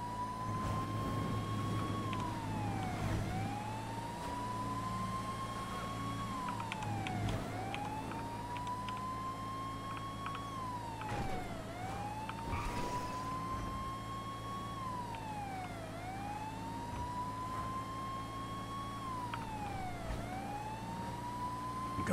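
Police car sirens wail in GTA 5 during a chase along a coastal highway, a continuous rising-and-falling yelp cycling every few seconds over a steady engine drone, loud and close throughout.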